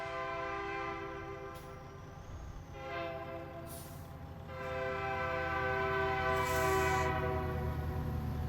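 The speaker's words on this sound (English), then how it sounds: "I got a train mod. I like the sound," A train horn from a train mod in American Truck Simulator sounds in long, sustained multi-tone blasts that swell louder toward the end, steady and fairly close, with no talking.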